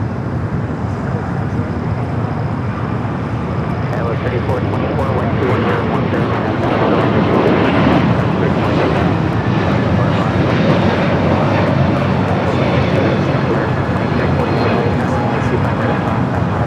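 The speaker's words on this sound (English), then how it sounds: "Delta A321neo taking off." A Delta A321neo takes off at LAX, a loud, close, continuous engine roar that swells midway and holds steady across the whole stretch, with a broad rumbling low end.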